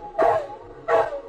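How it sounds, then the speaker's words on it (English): A dog in a radio play gives two separate, resonant barks about half a second apart, close and fairly loud, with no voices over them. "The dog is barking."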